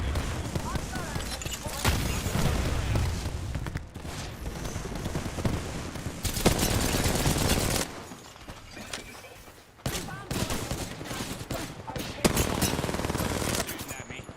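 Enemy gunfire in a shooter video game: sustained rapid automatic bursts rattle loudly in long stretches, broken by brief quieter gaps, with game sounds mixed in.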